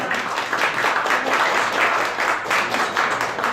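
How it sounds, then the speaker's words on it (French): Audience applause at the Fourchette d'or 2017 gala in Brussels, a loud, even wash of clapping from a sizable crowd, steady throughout with no talk over it. "On peut l'applaudir, mesdames et messieurs, Paulus Switzer."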